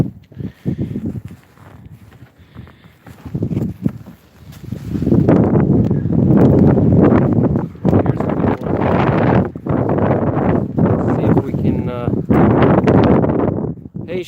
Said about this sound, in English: So the wind is about 10 miles an hour. It's not too bad right now, but it's gusting to like 15